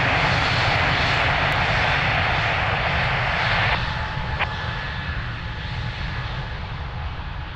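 Jet airliner engines at Lisbon Airport during takeoff from runway 02, a loud, sustained broadband roar that eases slightly midway as the aircraft moves off, with no voices.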